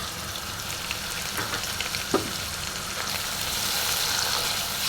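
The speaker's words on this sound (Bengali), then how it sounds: "এটাকে আমরা একটু ভেজে দেবো" Vegetables for a homemade Chinese mixed-vegetable dish sizzle steadily in a pan, a dense close hiss with a few scrapes of stirring, growing slightly louder toward the end.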